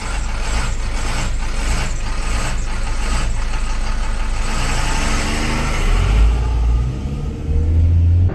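An intercooled Cummins 5.9 12-valve diesel engine running, a loud close rumbling idle that swells as it is revved near the end, with no voices.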